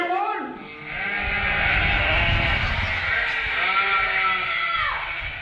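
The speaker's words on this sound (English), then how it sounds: "And this is a sheep uprising." A flock of sheep bleating loudly and continuously in a comic 'uprising' scene, with overlapping drawn-out cries close up and no talk.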